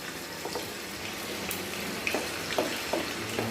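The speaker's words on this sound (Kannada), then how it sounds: "ಎಣ್ಣೆ ಕಾದಿದೆ ಈಗ ಒಂದೊಂದೇ ಪೀಸ್ ಬಿಟ್ಟು ಬಿಡ್ತೀನಿ" Prawn pieces for prawn Manchurian go one by one into hot oil, giving a steady, close sizzle with a few soft splashy pops as each piece lands.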